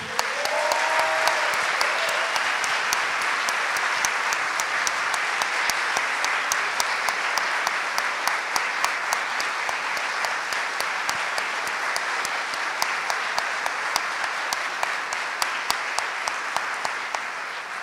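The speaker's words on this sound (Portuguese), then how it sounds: "quero aqui pedir uma salva de palmas para Marielle Franco." Sustained applause from a lecture audience, steady clapping that continues for the whole stretch with sharp individual claps standing out near the end.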